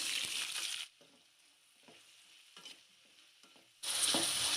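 Onions fry in a pan for fried rice, giving a bright, steady sizzle that cuts off for a few seconds and then returns loud and close; no one speaks.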